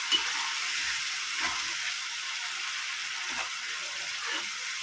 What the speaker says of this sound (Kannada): ಚೆನ್ನಾಗಿ ತಿರುಗಿಸ್ಕೊಂಡು ಸ್ವಲ್ಪ ಹೊತ್ತು ಹಾಗೆ ಫ್ರೈ ಆಗೋದಕ್ಕೆ ಬಿಡಿ